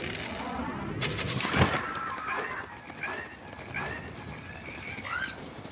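A horse whinnies in The Legend of Zelda: Breath of the Wild, with a loud neigh near the start followed by clopping hoofbeats and further whinnying calls among game effects.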